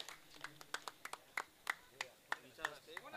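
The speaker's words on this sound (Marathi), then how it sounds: "सगळ्यांनी टाळ्या वाजवायच्या दोन्ही पंचांसाठी।" An audience claps for two umpires at a cricket prize distribution, a sparse patter of individual claps spaced irregularly over a few seconds, fairly quiet and close.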